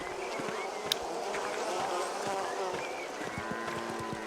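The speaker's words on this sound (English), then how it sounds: "Why are there so many buzzing sounds?" Insects buzzing in the medieval village of the game Pentiment, a continuous droning hum with faint clicks and small ambient sounds, moderately close and steady.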